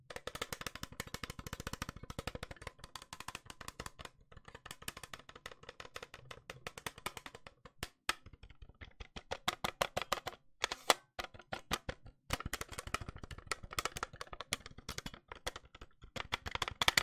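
Dense, quick tapping on a plastic Nerf toy gun, steady clusters of light taps with a few brief pauses, close and fairly quiet with no voice.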